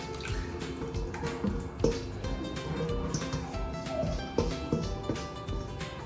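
Liquid pouring and splashing in bursts, with drips and bubbly gurgles, close and moderately loud.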